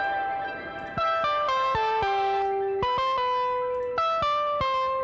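A synthesizer patch run through Decapitator distortion plays a quick descending and rising melodic line of gritty, harmonically rich notes, about a dozen sharp attacks in five seconds, loud and alone.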